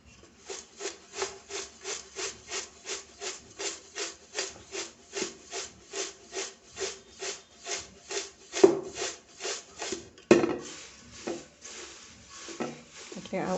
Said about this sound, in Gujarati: આવી રીતે હલકા હાથે મિક્સ કરી દેવાનું છે.